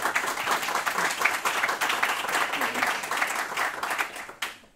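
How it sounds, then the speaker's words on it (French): An audience applauds after a tech presentation at a local meetup, with a dense patter of clapping that holds steady and then fades out near the end. "on peut vous applaudir et merci"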